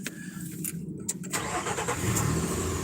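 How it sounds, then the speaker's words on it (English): A car engine cranks and catches after its fuel injectors were cleaned, the start building into a steady, loud idle that carries through to the end with no talking. "so now we're going to start it up again."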